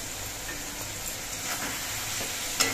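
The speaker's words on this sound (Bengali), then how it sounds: "এবার টমেটোগুলো নেড়ে চেড়ে দিচ্ছি" Tomatoes cooking in a pan for chutney give off a soft, steady sizzle with faint stirring scrapes and one small clink near the end.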